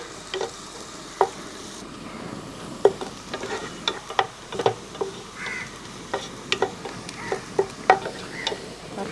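Onions fry in hot oil for Manjali chicken biryani: a soft continuous sizzle broken by a dozen or so sharp scraping clicks of a spoon stirring in the pan, close and steady, with no talking.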